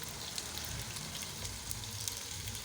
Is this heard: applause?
no